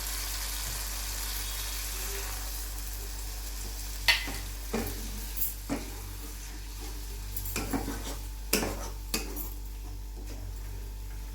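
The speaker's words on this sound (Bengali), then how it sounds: "একটু ধনে গুঁড়ো দেবো এর মধ্যে, ধনে গুঁড়ো দিয়ে দিলাম। একটু জল দিয়ে কষিয়ে নেব।" Spices with cumin and coriander powder sautéing in a pan for a raw banana kofta curry: a steady low sizzle with several sharp clinks and scrapes of a spoon stirring against the pan, no talking.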